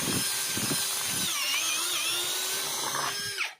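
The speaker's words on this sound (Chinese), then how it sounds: "现在它钻孔的效果也是可以用的啊" An electric hand drill fitted with a bit improvised from steel nails bolted together spins at a steady high-pitched whine, loud and close, then winds down and stops near the end.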